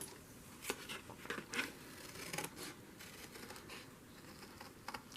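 Scissors cutting out a paper shape, quiet close snips and paper rustling in an uneven rhythm, faint and alone.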